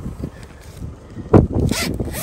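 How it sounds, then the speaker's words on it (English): Zipper pulled around the fabric cover of a rooftop tent, a short rasping zip burst near the mic mid-clip with further scraping zipping after it. "And all we need to do is just zip it around."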